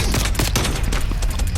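An FFAR assault rifle fires in Call of Duty: Black Ops Cold War, a loud rapid burst of fully automatic shots with heavy low thump, each round close and punchy.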